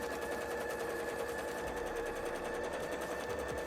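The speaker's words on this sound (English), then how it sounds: "Let us get the other part sewn down, which is the bottom." A sewing machine stitches down the bottom edge of a handmade costume bra, running steadily and close for the whole stretch with a fast, even mechanical chatter and no talking.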